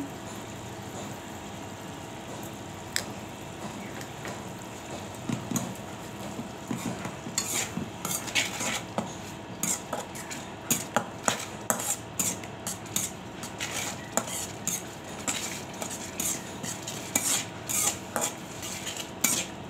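Ginger-garlic paste, cumin paste and salt being stirred in a pan for a fish curry, a faint background sizzle under a quickening run of metal spoon clinks and scrapes against the pan, with no one speaking.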